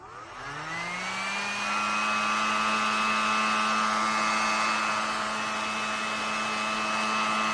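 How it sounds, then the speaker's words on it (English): A handheld dryer is used on paint over cracked gesso on an urn; it spins up with a rising whine, then holds a loud, steady blowing hum with a high tonal whistle, close and uninterrupted. "I'm going to use my dryer."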